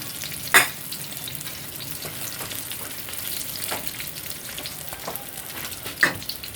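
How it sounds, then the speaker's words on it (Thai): Salmon belly pieces fry in hot oil with a steady, close sizzle and crackle, broken by two brief sharper pops and light stirring sounds. "เดี๋ยวขอตัวไปทอดปลาแซลมอนกันจ้า"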